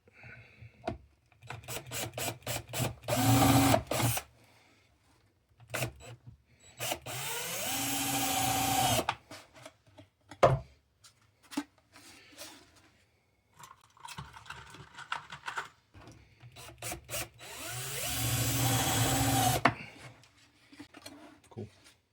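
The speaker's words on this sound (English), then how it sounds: "Drill two nice little pilot holes" A power drill bores two pilot holes into the neck of a Halloween animatronic during a repair. Two separate, loud grinding bursts of a few seconds each come up close, with quieter handling clicks and scrapes in between.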